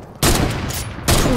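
Rapid bursts of video game gunfire fill the moment, two loud broadband volleys separated by a brief lull, close and dominant with no talk over them.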